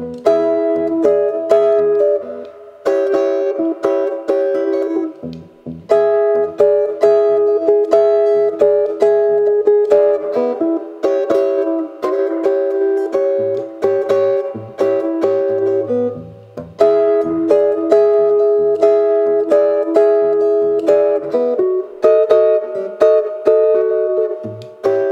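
Electric guitar plays a jump blues shuffle in E in Chicago style, a steady swinging rhythm of chords and bass-note riffs with turnaround changes, clear and alone for about twenty-five seconds.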